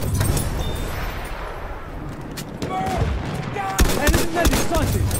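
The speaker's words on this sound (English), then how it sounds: "That's an enemy shot." Battlefield 1 combat fills the scene with loud, dense gunfire: overlapping rifle and machine-gun bursts crackle continuously, with heavier sharp reports near the end and faint voices mixed in.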